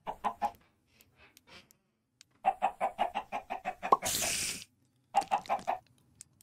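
Chickens in the Minecraft video game cluck in short repeated bursts, loud and close, with a brief hiss of another game noise in between and quiet gaps.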